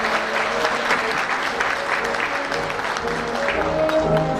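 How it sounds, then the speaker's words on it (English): Sustained applause from a gala audience at an annual unity dinner, a thick, even roar of many hands clapping together, moderately loud and continuous throughout. "Let's give another round of applause for our future of tomorrow here."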